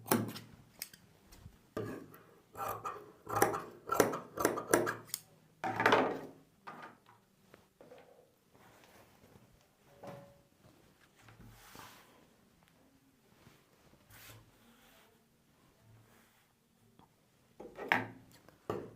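Scissors snip through plain blouse fabric along a marked outline, a run of crisp, close cuts clustered early, then sparse quieter snips and handling with a final burst of cutting near the end.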